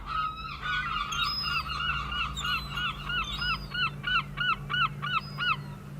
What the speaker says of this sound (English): a herring gull squawking, honking, call it what you will, calling from a wall somewhere around the outside or down by a shore somewhere